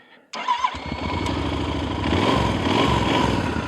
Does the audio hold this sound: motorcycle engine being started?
yes